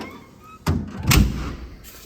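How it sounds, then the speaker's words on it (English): Compartment doors on an Antarctic fire department engine shut with two loud, dull thumps about half a second apart, with no voice. "A lot of squeaky doors."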